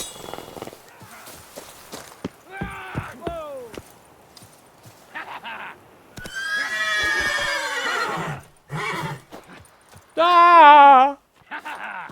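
A horse in the fantasy game The Witcher 3 gives a couple of loud, shaky neighs among hoof clops, clinks and other game sounds, with a voice speaking in between.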